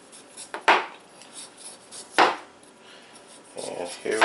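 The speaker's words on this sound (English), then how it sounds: "All you need is a sharp knife. Peeling potatoes." A sharp knife peels potatoes at close range, making a few brief scraping strokes separated by quiet pauses, with a longer rasping pass near the end.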